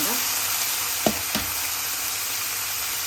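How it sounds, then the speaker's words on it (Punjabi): Onions and green chilies frying in a pan until light brown, with cumin already roasted in the oil; a steady, close, loud sizzle runs throughout, broken by two brief stirring knocks near the middle. "ਤੇ ਨਾਲ ਹੀ ਆਪਾਂ ਪਾ ਦਾਂਗੇ ਪਿਆਜ਼ ਤੇ ਹਰੀ ਮਿਰਚ ਤੇ ਇਹਨਾਂ ਨੂੰ ਆਪਾਂ ਹਲਕੇ ਬਰਾਉਨ ਹੋਣ ਤੱਕ ਭੁੰਨਾਂਗਾ"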